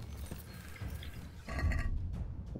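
A horse snorts and whinnies amid hoof clatter and thuds in the video game Kingdom Come: Deliverance, with rough, close animal noises.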